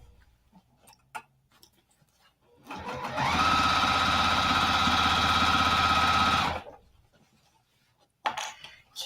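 A sewing machine stitches soft vinyl for an iPad case in one steady, loud whirring run of about four seconds, bracketed by quiet handling clicks and small taps before and after.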